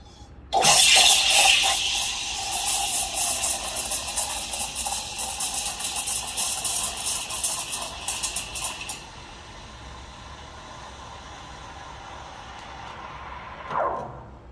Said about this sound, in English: Let's steam the milk.